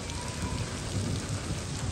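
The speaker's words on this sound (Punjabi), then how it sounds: "ਮੋਟੀਆਂ ਮੋਟੀਆਂ ਕਣੀਆਂ ਨੇ" Heavy rain of large, fat raindrops falls steadily as a dense, even roar of close splattering with no pauses and no voices.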